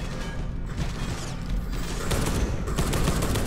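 Enemy machine gun fire in the video game Space Hulk: Deathwing, heard as dense continuous rattling bursts over heavy mechanical clatter and low rumble, loud and sustained throughout.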